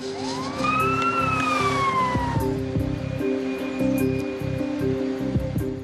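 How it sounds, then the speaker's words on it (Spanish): An ambulance siren wails with rising and falling tones over a noisy street background, fairly close and loud, with steady banding below the sweeping pitch. "Una ambulancia y personal sanitario se desplazan al número 40 de la calle Imstrasse"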